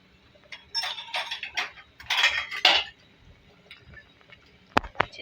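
A spoon stirs beef and bottle gourd curry in a metal pot, making bursts of scraping and clinking close by, then pauses and ends with two sharp clicks.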